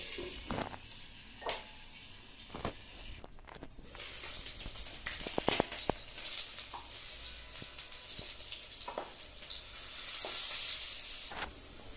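Pointed gourd (potol) pieces frying in oil in a covered pan give a steady close sizzle, with scattered pops, clicks and a few louder clatters, presumably from the lid or a utensil, and no talking.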